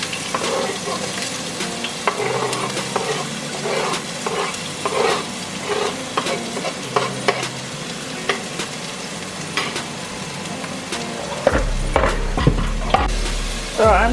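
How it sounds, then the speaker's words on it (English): Peppers, minced garlic and green seasoning sizzle steadily in a hot pan for a chili, broken by repeated scraping stirs of a utensil and a louder clatter near the end. "So I'm just going to cook this for about 2 or 3 minutes until they're nice and sauteed."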